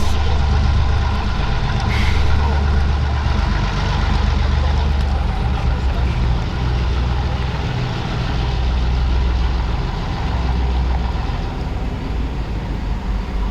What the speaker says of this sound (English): The coach train for this event is using a mix of heavyweight cars